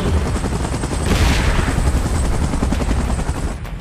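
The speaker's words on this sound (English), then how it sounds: "Chopper in position." A helicopter in the PUBG Mechagodzilla video game event thrums loudly and steadily, its dense rotor chop and engine noise filling the scene without pause.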